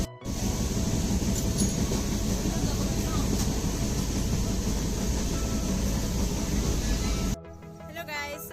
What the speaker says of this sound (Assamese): আমি আহি আছোঁ ইয়াত ট্ৰেইনত